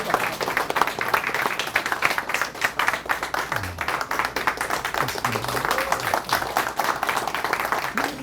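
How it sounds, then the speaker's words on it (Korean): An audience welcomes a lecturer to a commemorative talk with steady, sustained applause: many hands clapping at once, close and dense, continuing evenly throughout with no break. "한번 모셔보겠습니다. 박수로 맞아주세요."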